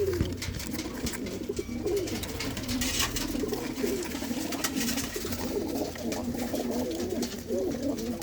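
Many pigeons of fine breeds, kept for sale, coo steadily and continuously close by, a dense layered murmur of overlapping calls with no talk.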